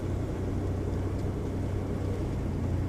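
A van rolls slowly around a lakeside campground loop, a steady low engine and road rumble heard from inside, even and unbroken for about three seconds.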